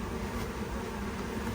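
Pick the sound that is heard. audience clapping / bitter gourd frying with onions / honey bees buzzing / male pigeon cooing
honey bees buzzing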